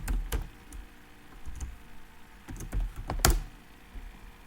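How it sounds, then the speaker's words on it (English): Password typed on a computer keyboard, a handful of crisp, irregular key clicks close up, with short pauses between bursts and a firmer keystroke near the end, no talking. "So I have entered the password."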